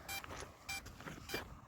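Three faint, evenly spaced electronic beeps from a DJI Mavic Mini drone after landing, repeating about every half second over a quiet background hiss.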